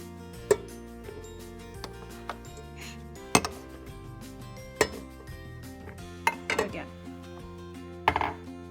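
A spoon clinks and scrapes against a bowl while brown sugar and flour are stirred together for banana cranberry muffins, with scattered sharp taps and knocks at an uneven rhythm, fairly quiet and close.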